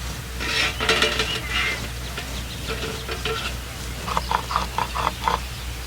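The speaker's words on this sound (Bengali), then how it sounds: "ঢাকনাটা এবার নামিয়ে নিচ্ছি আমি একটু নেড়ে ছেড়ে দিচ্ছি ভাতটা" Metal lid clatters off a pot of boiling rice during village cooking, followed by a scraping, clinking stir with a quick run of rhythmic taps near the end, all close and moderately loud over a steady low hum.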